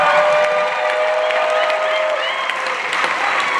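Concert audience applauding and cheering after a Congolese music performance, a dense, steady wash of clapping and crowd noise with a sustained voice or tone over it, loud and continuous throughout.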